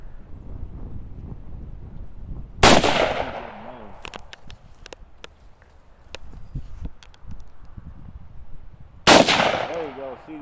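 An AR-15 rifle fires outdoors, two sharp, loud cracks several seconds apart, each with a quick decaying echo, separated by quieter wind noise and faint clicks.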